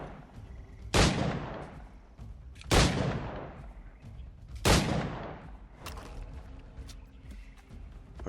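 Three loud, sharp gunshots from the video game Assassin's Creed: Liberation crack out at roughly two-second intervals, each trailing off in a decaying echo, followed by quieter rumbling game ambience.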